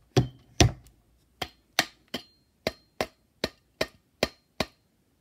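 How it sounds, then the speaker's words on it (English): Mallet blows on an electric skateboard motor mount: eleven sharp, close knocks, two heavy ones at the start followed by nine lighter evenly spaced taps with brief ringing decay, alone with no talk. "you want to hit it with a mallet"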